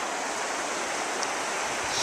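River rapids rush beneath a canoe in a continuous, broad roar of churning water that stays close and steady for the whole moment.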